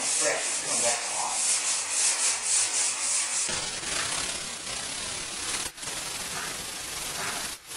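Light hand sanding of primer on the flat areas of a 1959 Chevy pickup hood with 150 grit paper, close rhythmic scraping strokes that settle into a continuous rasp.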